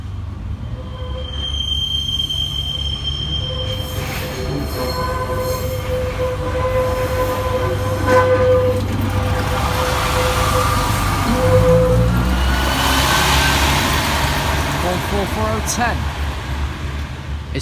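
A train rolls past a level crossing loudly with rumbling wheels, high squealing tones and a horn-like note, sustained throughout and close by; the crossing alarm is faulty.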